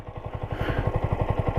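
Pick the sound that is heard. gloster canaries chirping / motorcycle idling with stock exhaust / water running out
motorcycle idling with stock exhaust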